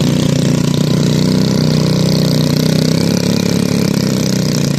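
A motorcycle engine runs loud and close in rural Aceh, Indonesia, giving a steady continuous drone that hums on unbroken with no speech.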